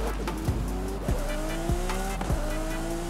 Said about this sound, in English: The pops and bangs on it are crazy.